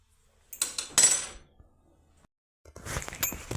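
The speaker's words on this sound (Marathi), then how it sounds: "चला आता खाली उतरून घेते गॅसवरून" A pot of peanut curry is lifted off a gas stove in a home kitchen with a couple of sharp metallic clanks and scrapes, a short pause, then further clattering of utensils, close and fairly loud.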